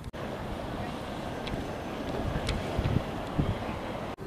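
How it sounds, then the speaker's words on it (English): Wind buffeting a microphone at a rooftop lookout in Barcelona, a continuous rough rumble and hiss with occasional gusts, no clear talk over it. "A bit windy in my little fort."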